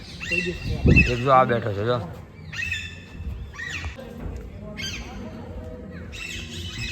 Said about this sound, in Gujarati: પોપટ જો હાવ નજીક બેઠો છો